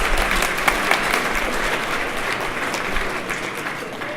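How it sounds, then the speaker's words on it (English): Audience applause fills an awards ceremony hall, a steady wash of many hands clapping at close range for about four seconds with no talking. "Give yourself a round of applause."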